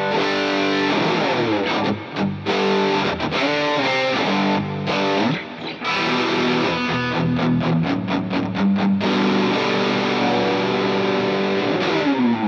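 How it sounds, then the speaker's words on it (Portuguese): An electric guitar played through a Joyfx 1981 distortion pedal, heavily saturated chords and choppy rhythmic stabs ringing out loud and continuous for about twelve seconds, with no talking. "vem meu drive terceiro estágio, né, Distortion Punk, na cabeça, seria o 1981 da Joyfx"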